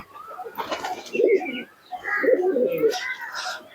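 A Teddy pigeon coos in two low, throaty, warbling bursts, close by, with other soft noises around it.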